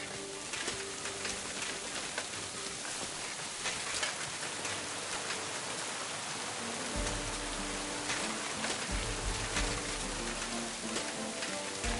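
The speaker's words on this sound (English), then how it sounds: "Fucking rain." Steady rain patters down continuously, a dense hiss of drops on surfaces with faint bird calls mixed in, constant in level with no talking.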